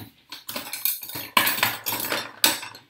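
A knife and fork are handled on a plate in quick, close clattering bursts of metal cutlery against dishware, with short pauses between them.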